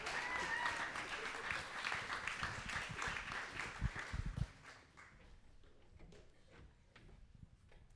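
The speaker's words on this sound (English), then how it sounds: "Clap for them now." Coffeehouse audience at a university performance night applauds an incoming duo act, a dense wash of clapping that stays loud for about four seconds, then thins into scattered claps and small bumps.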